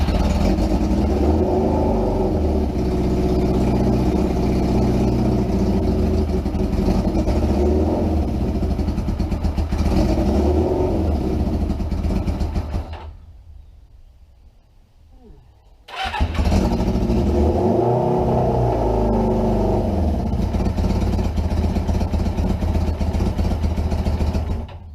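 Suzuki GS550 rat bike motorcycle engine running loudly and unevenly with revs, cutting out into near silence for a few seconds, then firing up again and continuing to run and rev.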